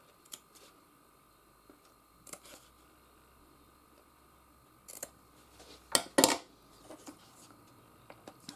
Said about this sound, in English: So this one we're just going to cut, because it's rounded it's going to be a bit awkward.